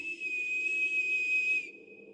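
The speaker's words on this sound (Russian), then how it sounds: "Не давая ответить, противный свист донесся по двору." In the video game Tiny Bunny, an unpleasant whistle carries across a snowy yard: one sustained, piercing high tone lasting over a second, loud and clear, then tapering to a thinner held note.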